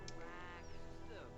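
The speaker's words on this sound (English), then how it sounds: "I think the interaction is cute between Grim and the chicken" Game chicken in The Sims 4 being petted by the Grim Reaper, giving short squawky clucks over a steady layer of background game music.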